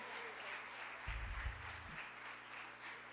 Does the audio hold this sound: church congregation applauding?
yes